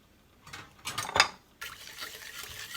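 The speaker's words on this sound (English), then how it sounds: "I'm going to add 1 stick of melted butter" Melted unsalted butter poured into a cookie mixture in a bowl, a short soft liquid glug with light wet splashing and a brief scrape, quiet and close.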